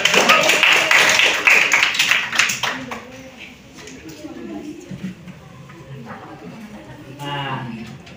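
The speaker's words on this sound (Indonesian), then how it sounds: "boleh tepuk tangan ya" Brief burst of applause in a classroom, a group of students clapping loudly for about three seconds before it dies away, followed by people talking.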